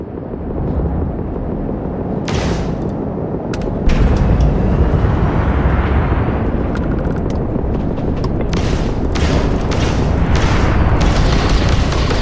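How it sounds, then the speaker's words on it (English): Gunfire and booming blasts in a Starfield space firefight, loud and continuous, with a heavy rumbling bed and repeated sharp reports growing denser and louder partway through. "Opening fire!"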